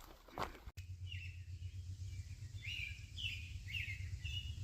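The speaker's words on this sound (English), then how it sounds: "That's a robin." An American robin sings along the Appalachian Trail in the Shenandoahs, a series of short warbling phrases at moderate distance over a low steady hum, with a brief faint thump near the start.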